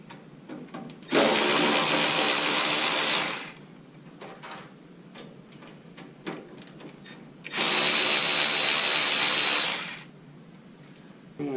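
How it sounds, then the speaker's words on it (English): Two loud bursts of a power tool, likely an impact wrench, removing bolts from the front end of a 1987 Kawasaki Concours, each lasting about two seconds and set apart by quiet clicks and handling noise. "let's go ahead and pop these bolts off"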